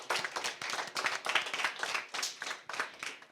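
An audience at a spelling bee competition claps for a speller, a brisk burst of applause from a modest group rising and falling in uneven waves.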